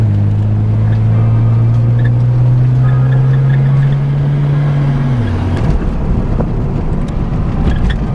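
Mazda RX7 FD twin-turbo rotary engine under way, a loud, close drone climbing steadily in pitch for about five seconds, then dropping abruptly at a gear change into rougher, noisier running with road rumble.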